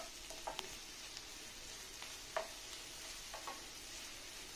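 Crushed garlic, ten cloves, and chillies sauté in oil for a country chicken chilli curry, giving a faint steady sizzle with a few soft stirring scrapes, low and close, no voices.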